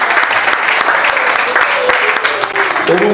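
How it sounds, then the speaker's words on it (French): Audience applause at a waiter competition in Cameroon, a dense steady clapping that fills the whole stretch, with a voice talking faintly over it toward the end. "Je vous prie déjà de les applaudir tous pour ce très grand concours."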